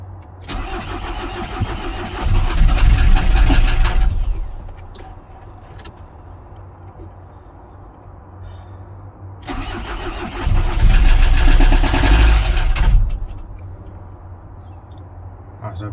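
A Ford Transit Mk7 van engine cranks and catches twice, each start surging loudly before dropping back to a rough, low idle that runs on between the attempts.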